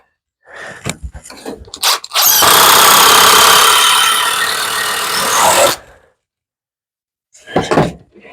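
Screws are driven into wood pieces with a power driver, giving one sustained grinding whir of about three seconds, bracketed by short bursts of rasping and handling noise before and a brief buzz at the end.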